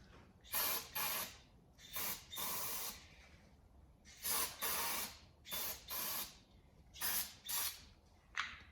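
Carb cleaner sprayed into the carburetor of a 1963 Chevy C10 in a series of short, close hissing bursts, some in quick pairs, spread across the clip with brief pauses between, no voices.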